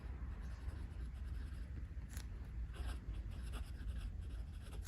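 A felt tip pen with a 1mm tip writes on paper, giving a continuous soft scratching and scraping of the nib, close up and quiet.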